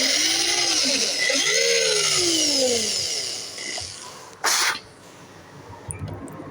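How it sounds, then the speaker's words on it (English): A drill whines steadily, its pitch sweeping up and down as it bites into a hidden-tang knife handle, then a brief harsh burst and a few faint clatters. "Now we're going to try to drill out the rest of her."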